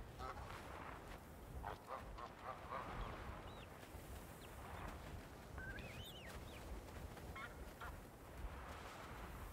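Ducks in the video game BLANC honk and quack in scattered, fairly faint calls over a steady windy background rush.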